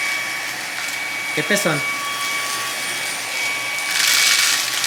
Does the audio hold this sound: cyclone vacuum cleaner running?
yes